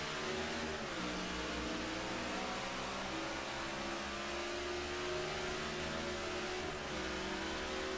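NASCAR stock cars in the NASCAR '14 video game roar off the green flag at Darlington for the Southern 500, a dense, steady wall of engine noise with rising pitch as the field accelerates, loud and continuous throughout.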